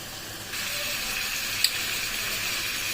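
Chicken sizzles steadily while being fried for kosha in a pan, a continuous bright hiss with one brief sharp pop, close and without talk.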